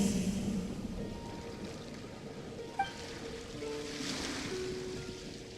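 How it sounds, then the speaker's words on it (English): Ocean waves wash steadily onto the shore in the video game Genshin Impact, a soft continuous surf hiss with gentle swells and a brief faint knock partway through. "Go to where you can hear the sound of the waves."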